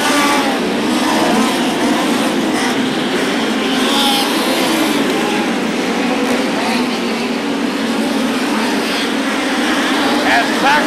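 POWRi midget race cars roar around the dirt oval at Macon Speedway in a continuous loud engine drone, with a track announcer talking over the racing throughout.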